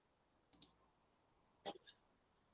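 A computer keyboard's Enter key is pressed, giving two quick, faint plastic clicks followed by another small cluster of clicks in an otherwise quiet room.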